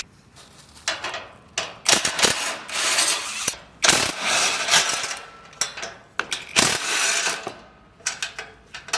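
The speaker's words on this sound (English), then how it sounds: "Remove all fixing bolts at the bottom of the iron bracket using an M14 socket." A ratchet with an M14 socket loosens bolts at the bottom of an iron bracket on a motorcycle frame, giving close bursts of clicking ratchet strokes broken by short pauses and metallic clinks, with no talk.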